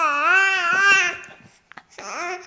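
A baby girl babbles in a sing-song, vowel-rich stream, then breaks off and calls out again after a short pause, close and fairly loud, with no other voices.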